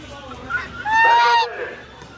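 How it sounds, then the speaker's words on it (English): A single goose at a poultry auction gives one loud, nasal honk lasting about half a second, close by, with a fainter bird call just before it. "And we got a little goose here."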